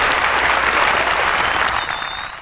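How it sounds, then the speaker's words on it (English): A loud burst of audience applause for the Sports Circus on a sports talk show, dense many-handed clapping that holds steady then begins to fade toward the end. "Nice round of applause for the circus."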